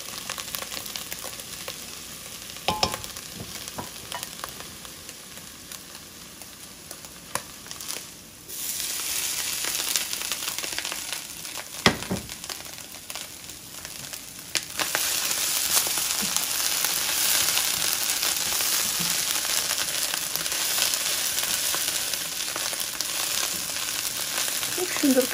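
Vegetables stir-fried with eggs in a pan for chira pulao, a faint steady sizzle with occasional clinks and scrapes of a spatula, growing louder and denser in the later part.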